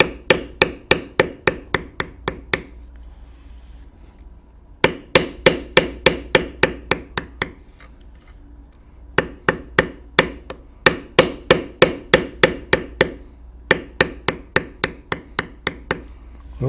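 A mallet taps a beveling tool into leather while a bear head is carved, landing in rapid, even bursts of sharp knocks separated by short pauses. The strikes are close and crisp, with no talking.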